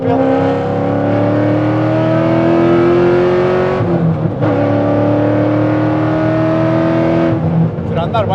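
A naturally aspirated, nitrous-equipped 800-horsepower Corvette engine revs hard and loud, pitch climbing, dropping briefly at gear changes, then surging again, with a crackle near the end.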